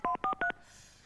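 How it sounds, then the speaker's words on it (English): Three quick pairs of touch-tone telephone keypad beeps as a phone number is dialed, each tone clear and evenly spaced, followed by a faint hiss of line noise and no talking. "Have you got the right number, Geoff?"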